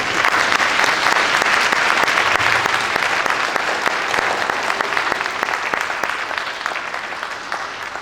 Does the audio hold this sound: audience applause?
yes